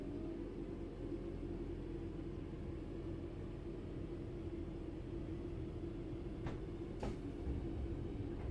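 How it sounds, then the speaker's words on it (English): A train starting to move in the video game Train Sim World 4, a low continuous engine rumble with steady hum, moderately loud and unchanging, plus two brief faint sweeps near the end. "Let's get the train moving and see it all working."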